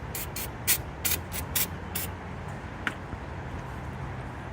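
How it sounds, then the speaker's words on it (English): Parts cleaner aerosol sprayed onto a KTM motorcycle's rear brake, a series of short hissing bursts in quick succession, then one brief faint spurt, over a steady low hum. "Hit it with the parts cleaner."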